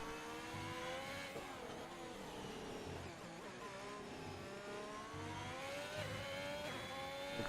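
Ferrari Formula 1 car in a racing video game at the Spanish Grand Prix, engine revving hard and shifting through corners, with rising and falling pitch sweeps and gear changes, loud and continuous.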